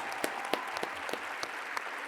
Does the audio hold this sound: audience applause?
yes